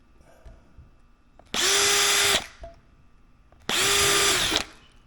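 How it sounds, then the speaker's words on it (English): A power drill cuts a 1/8 inch hole through Lexan sheet, two loud steady whining bursts of under a second each, close by, separated by a pause. "In the 1/8 inch hole, I'm just breaking through the Lexan."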